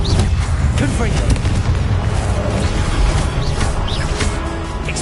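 Confringo blasting spell explosion in the video game Hogwarts Legacy, a loud booming blast with a dense rumbling low end and crackling debris filling the moment, no talking.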